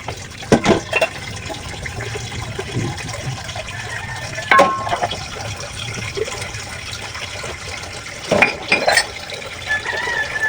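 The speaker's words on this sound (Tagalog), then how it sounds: "Maghugas naman tayo ng pinggan" Running water splashes steadily in a sink while dishes and cutlery clink now and then, with a few louder clatters of plates being handled.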